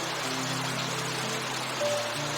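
Heavy rain during a village flood in a Hindi cartoon makes a continuous even hiss, with faint low tones humming beneath it.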